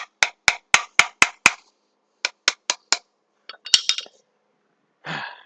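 Metal flange being tapped back into its hole during a distillery workshop repair, heard as a quick series of about six sharp, close taps, a short pause, then four more, followed by a brief clatter and a soft scrape.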